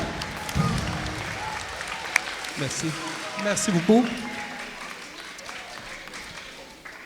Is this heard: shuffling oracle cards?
no